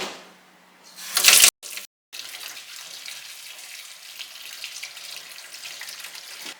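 Tap water runs into a kitchen sink while vegetables are rinsed, first as a loud, bright gush that cuts off abruptly, then as a steadier, softer stream of running water with no voices.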